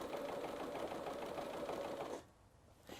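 A sewing machine runs a zigzag stitch across a quilt, giving a close, steady mechanical whir for about two seconds before it stops and near quiet follows.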